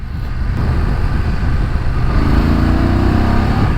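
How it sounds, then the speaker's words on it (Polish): A 2019 BMW F750GS motorcycle engine revs up, a loud, close, steady drone that climbs gradually in pitch as the revs rise, with no voices over it. "3000 już się nam to podnosi, silnik ładnie wstaje"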